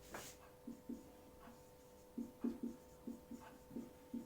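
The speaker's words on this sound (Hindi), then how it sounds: "मैं यहां लिखता हूं इसको" Chalk or marker writes on a classroom board in short, soft strokes and taps, quiet and close, with a faint steady hum underneath.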